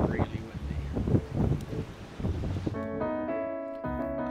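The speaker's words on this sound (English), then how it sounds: "It's really, really windy." Strong wind on the Riviera coast buffets the microphone in gusty, low rumbling surges for a few seconds before music takes over.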